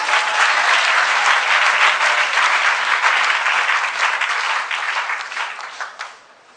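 A crowd applauding at a church prayer vigil, dense loud clapping that holds steady and then thins out and fades over the last seconds.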